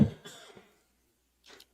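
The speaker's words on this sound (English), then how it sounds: "Apologize for my cough." A single cough bursts out at a county commission meeting, a broad rough burst fading over half a second, followed by silence and a brief faint rustle near the end.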